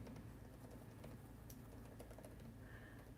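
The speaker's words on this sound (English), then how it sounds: "I can hear Emily typing." Faint, quick clicking of keys on a computer keyboard, typed in an uneven patter against a soft background hum, with no talking.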